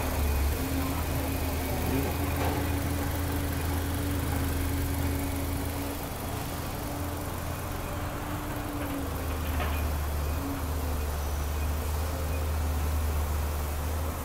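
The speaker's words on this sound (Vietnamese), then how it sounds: "Đây là khối động cơ đang nổ máy nha các bạn, nhưng mà các bạn thấy nổ rất là êm nè ha." A 2017 Toyota Camry 2.5Q gasoline engine idling under an open hood, a smooth, steady low hum with a faint constant tone, even and unbroken throughout.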